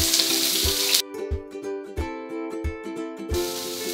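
Onion and garlic sizzle in a pan for borscht, a loud hissing fry that drops away for a few seconds while soft knocks and clinks of stirring sound, then the sizzle returns.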